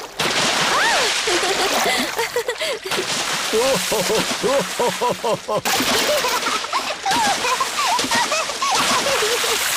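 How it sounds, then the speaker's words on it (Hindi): Cartoon pigs splashing water at a beach, repeated splatters and sloshes throughout, mixed under lively character voices and playful music. "अब और कितना छिड़कोगी?"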